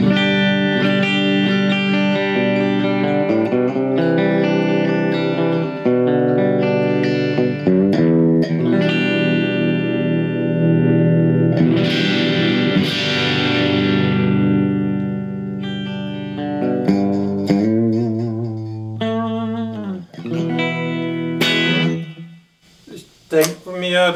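An electric guitar on its humbucker pickup with the guitar volume rolled back to about 7, playing a loud, sustained, harmonically rich hot tone through a Blackstar ID Core amp with effects and reverb, chords ringing out for a long passage with brief breaks near the end.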